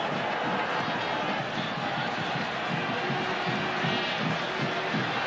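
Botafogo supporters roar and chant in a packed stadium during a 1999 Copa do Brasil match against Flamengo, a steady dense crowd wash filling the whole stretch.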